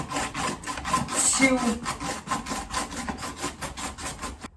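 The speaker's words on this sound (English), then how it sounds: "I use my grater." Beets scraped against a kitchen grater in quick, even rhythmic strokes, a close and steady raspy grinding that continues throughout.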